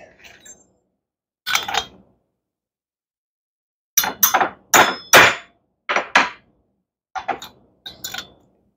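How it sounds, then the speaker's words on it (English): An impact wrench works on a McCulloch 10-10 chainsaw being stripped for a port job, firing in about nine short, loud, rattling bursts with brief pauses between them and near silence around them. "Impact wrench."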